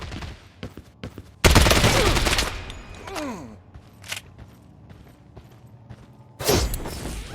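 Shotgun fire in an online shooter game crashes out as a loud burst of blasts, followed by scattered clanks and mechanical creaks, with a second loud blast near the end.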